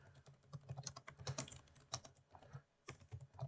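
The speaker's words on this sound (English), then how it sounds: "Now I'm just going to quickly type in" Rapid typing on a computer keyboard while entering dimensions in Fusion 360 CAD software, with clustered keystrokes close by and a brief pause between bursts; no one speaks.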